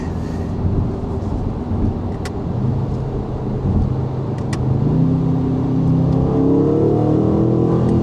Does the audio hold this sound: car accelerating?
yes